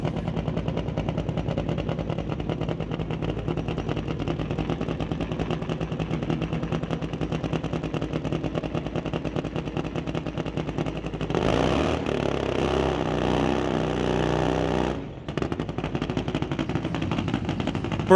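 Cowden's drag racing motorcycle roars steadily through a burnout at the West Coast Outlaw Shootout, a loud, close, rapid-firing engine drone that surges harder near the end before briefly dipping.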